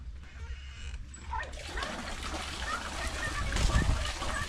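Water runs from a newly connected kitchen faucet on a PVC extension under pressure, a faint continuous splashing and trickling that grows slightly stronger, with a murmur of voices.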